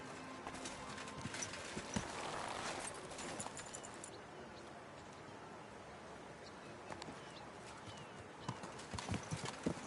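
Horse hooves clip-clop steadily and close by in the medieval open-world game Kingdom Come: Deliverance 2. The rhythmic, continuous trotting plays alone for about ten seconds against faint ambient outdoor noise.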